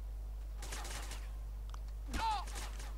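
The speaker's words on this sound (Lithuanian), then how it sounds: "O, fuck, mane šaudo iš kažkur." Gunfire aimed at the player in GTA San Andreas comes as a few quick, distant crackling bursts, followed by a voice talking over the game.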